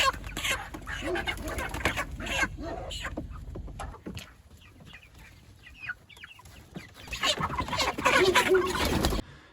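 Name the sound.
chickens clucking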